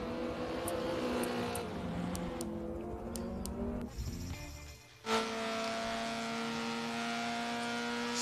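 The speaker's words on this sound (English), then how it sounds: "Beautiful sound, as you can hear him dropping down the gears there." A race car's engine revs and drops down through the gears in a Fast 4s round, the pitch stepping up then falling, loud and close, with a sharp new gear burst after a brief dip.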